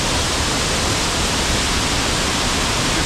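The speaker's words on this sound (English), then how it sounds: "So the waterfall is really beautiful." La Cascada waterfall in Roca pours in a constant, dense roar of rushing water, loud and close, with no other sounds breaking through.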